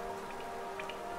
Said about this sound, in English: I so love the sound of the rain upon glass